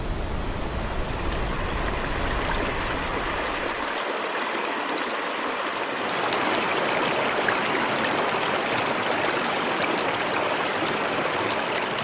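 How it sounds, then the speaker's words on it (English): Glacial meltwater river on Baffin Island rushing steadily, a continuous dense roar of flowing water that grows brighter and fuller after the first few seconds, with no voices. "We were impressed by the snow melting off the glaciers, the emerging rivers of meltwater"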